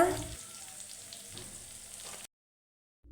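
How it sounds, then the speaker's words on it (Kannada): Grated fresh coconut frying in a pan for lemon rice gives a soft, low sizzle with faint stirring, heard close but quietly before it cuts to silence. "ಕೊಬ್ಬರಿ ತುರಿನ ಹಾಕ್ಕೊಂಡು ಸ್ವಲ್ಪ ಫ್ರೈ ಮಾಡ್ಕೊಳ್ಳಿ"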